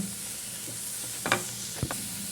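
Broccoli with vinegar and lemon juice gets stirred in a pan, a soft sizzle under a couple of brief scraping clatters from the spoon, quiet and close.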